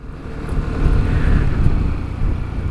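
A BMW C400GT urban scooter pulls away under throttle, a close, steady engine drone swelling in loudness and then easing slightly over a few seconds, with no talking.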